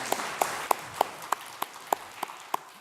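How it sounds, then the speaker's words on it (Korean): A congregation at a Korean church Sunday worship service in Baltimore claps in unison, a slow, evenly spaced beat of about ten sharp claps, moderately quiet and without voices. "하나님께 영광의 박수를 올려드립니다"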